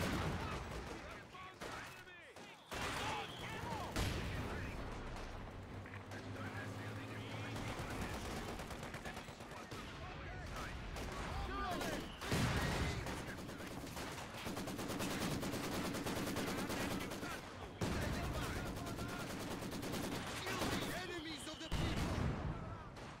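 Machine gun fire in the Company of Heroes 2 World War II strategy game, Soviets against Germans, dense sustained automatic bursts layered with other gunfire and battle noise, continuous and loud throughout, with game unit voices over it.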